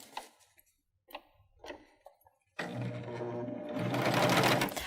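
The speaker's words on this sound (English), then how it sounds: "Now let's look at how the machine handles some denim." Baby Lock Euphoria cover stitch machine sewing a folded denim hem: after a few faint clicks and taps, the motor starts and runs a loud, steady, fast stitching whir to the end.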